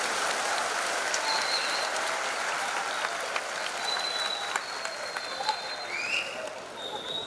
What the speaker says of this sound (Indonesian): Kita berikan tepuk tangan untuk Pak Muhdi.